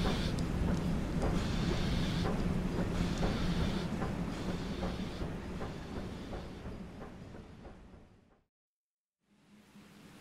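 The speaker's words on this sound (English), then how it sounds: "the two engines snorted into life, dragging the damaged Britannia and his train back towards the yard." Two steam engines moving off, heavy rumbling machinery with rhythmic chugging and clanking, loud and close, gradually fading before a brief silence and a return of engine noise.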